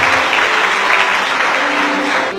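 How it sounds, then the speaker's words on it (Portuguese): A church congregation at an Assembleia de Deus service applauds honored pioneer members, loud, close and continuous clapping that cuts off near the end, with no speech over it. "Recebam também os aplausos desta igreja."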